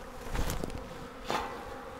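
A low, droning buzz of many honeybees from a live swarm close by, swelling briefly in a couple of louder bursts.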